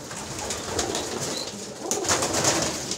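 Pigeons coo softly and repeatedly nearby, their low throaty calls overlapping with faint rustling and a few higher chirps.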